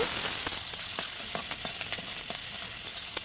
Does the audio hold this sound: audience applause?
no